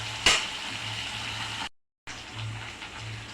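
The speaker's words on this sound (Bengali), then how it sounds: "একটু ভালো করে কষিয়ে নেব।" Onion paste and ginger paste sizzle and fry in a pan for a prawn and ridge gourd curry, a steady close hiss with one sharp clatter near the start and a brief silent gap midway.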